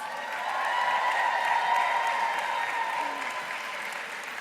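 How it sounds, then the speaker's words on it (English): Sustained audience applause for sales directors at a Mary Kay company event, a broad wash of many hands clapping that swells and then slowly eases. "Please stand and let everyone give you a round of applause."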